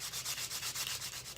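A wooden wand spins on a lathe while sandpaper rubs against it, giving a steady, close, pulsing rasp with no voices.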